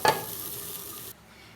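Dal with egg and potato sizzles gently in a pot as it is stirred, a close, soft frying hiss that cuts off abruptly partway through, with no speech.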